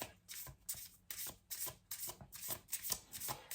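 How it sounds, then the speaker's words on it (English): Tarot cards being shuffled by hand, close and soft, in a rhythmic series of about eight riffling swishes with brief pauses between them. "Let's pull another card."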